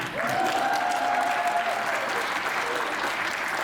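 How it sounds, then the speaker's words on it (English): Wedding guests break into steady applause for the newly married couple, a room full of clapping that holds evenly for a few seconds, with a brief high whistle or cheer rising over it. "Oh, people, you're allowed to clap."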